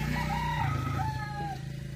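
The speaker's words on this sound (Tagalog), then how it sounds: "Dito kasi, dito sa kapitbahay namin, dami kasi yung chickens." A rooster crows nearby in the neighbour's yard, with drawn-out wavering calls over a steady background hum. Chickens kept there cluck faintly beneath it.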